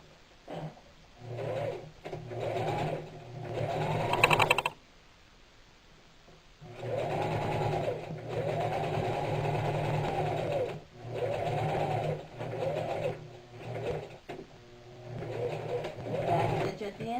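A sewing machine runs in steady bursts, stitching a seam along the outside edges of a burlap coffee sack clutch with a half-inch seam allowance, humming close and loud with short pauses between runs.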